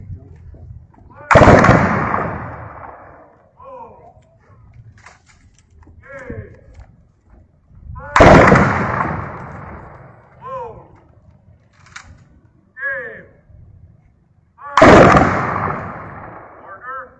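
An honor firing salute at a Memorial Day parade: three loud rifle volleys spaced about seven seconds apart, each echoing outdoors, with distant cheers and voices between them.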